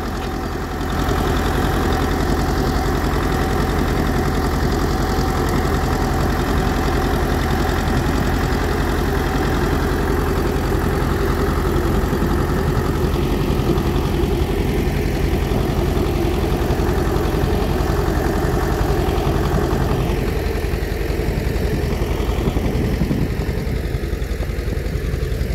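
Farm tractor engine idles steadily and loud during potato planting, a continuous close diesel chug with a fine knocking rhythm that holds unchanged for the whole stretch.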